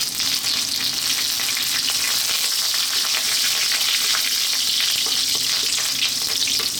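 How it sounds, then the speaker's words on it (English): Loud, steady sizzling and crackling of leaves frying in hot oil, a continuous bright hiss with dense popping throughout. "We're now going to drop in our curry leaves, fresh curry leaves."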